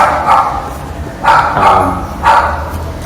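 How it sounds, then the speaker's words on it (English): A dog barks three times in separate loud bursts, close to the microphone, with quieter moments between them. "I was waiting for the dog to shut up."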